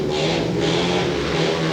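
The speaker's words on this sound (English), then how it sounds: "Away we go, they're revving into the tapes as Starling Marshall moves away." Speedway motorcycles rev hard together at the starting tapes of a World Under-21 final at Peterborough, a loud sustained engine roar with pulsing throttle swells.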